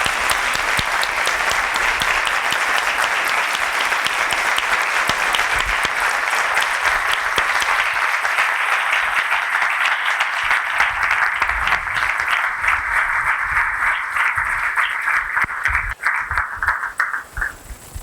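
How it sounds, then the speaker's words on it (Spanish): Sustained audience applause at a conference event on economics and public policy: dense, loud clapping from a sizeable crowd that holds steady for about fifteen seconds, then thins into scattered last claps. "Un aplauso a Irene, por favor."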